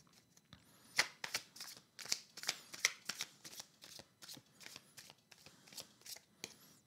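Tarot cards shuffled by hand in a quick, uneven run of crisp riffling snaps and flutters, close and fairly quiet, with no voices.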